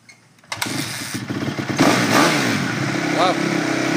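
A cold 2005 Honda CRF250R dirt bike engine kicks over and catches, then settles into a loud, steady close-up idle with a brief blip of revs.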